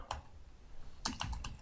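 Computer keyboard typing heard close and fairly quiet: one isolated keystroke, a pause, then a quick run of four or five key taps.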